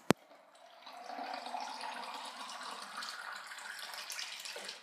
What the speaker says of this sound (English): Fill up with filtered water.